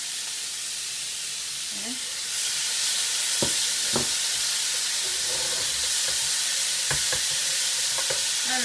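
Flank steak searing in a hot pan, a steady broadband sizzle that grows louder once the meat goes in, with occasional scraping and a short spoken word.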